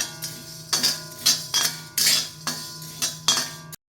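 Split lentils with husks are dry roasted in a pan without oil for a spicy nalla karam powder, giving steady, close scraping and rattling strokes roughly every half second with a soft grainy hiss between them. No one speaks.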